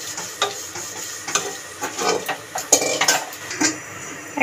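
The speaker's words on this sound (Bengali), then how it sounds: "একটু নাড়িয়ে দেবো যাতে নুনটা সমস্ত পাতার মধ্যেই মিশে যায়।" A spoon stirs kharkol leaves with salt and green chillies in a pan, producing soft irregular scraping and clinking strokes with a faint sizzle, close and fairly quiet, without talk.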